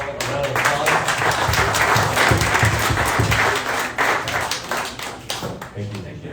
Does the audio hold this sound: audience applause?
yes